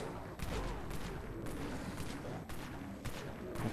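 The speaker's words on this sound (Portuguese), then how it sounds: "Até uma explosão na cara" Explosions and gunfire in the video game Dead Frontier rumble in repeated bursts, dull and low, under a steady background of game noise.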